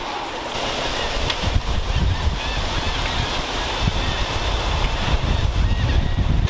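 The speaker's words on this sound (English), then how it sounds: "Oh, it's windy." Steady wind gusting and rushing across the microphone, with a low rumbling roar throughout and no clear voices.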